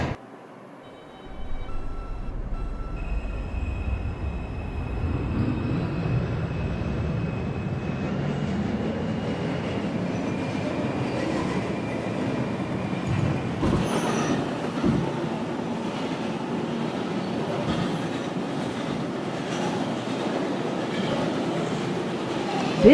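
An R142 subway train on the 2 line starts up and runs steadily between stations toward Wakefield, with a loud continuous rumble of wheels and motors and occasional high squeals, no talking.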